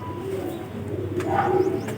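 Pigeons kept by a pigeon fancier coo softly with a few brief calls, close and fairly quiet over a steady low hum.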